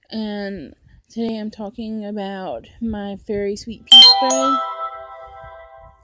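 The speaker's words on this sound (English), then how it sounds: "that was just my phone" A mobile phone rings with a bright, tonal chiming ringtone that bursts in loudly near the end, sustained and ringing out after someone speaks over a short stretch before it.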